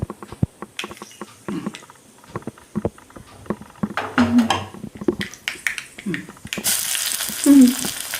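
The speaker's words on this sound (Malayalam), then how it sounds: "അതെ കടുക് പൊട്ടി തുടങ്ങില്ലേ, ഒന്ന് പൊട്ടിക്കോട്ടെ കേട്ടോ" Mustard seeds pop and splutter in hot oil in quick irregular bursts, close and sharp, with a rising sizzle toward the end.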